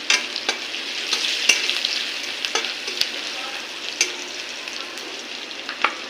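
A spiced mixture with turmeric bubbles and sizzles steadily in a pan over lowered heat, with sharp spoon clicks and scrapes as it is stirred at irregular intervals; no one speaks.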